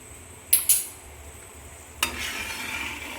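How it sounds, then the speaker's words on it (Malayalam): Ghee is stirred into a Kerala jackfruit and jaggery payasam in a pot, two sharp metal spoon clinks followed by a soft, continuous scraping stir, quiet and close, with no talking. "നെയ്യ് ഒന്ന് ഇളക്കി കൊടുക്കാം"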